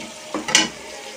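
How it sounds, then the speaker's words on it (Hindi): Water poured into a pot of sizzling biryani masala makes a short burst of hissing and bubbling over a steady background fry. "पानी डालते हैं इसमें"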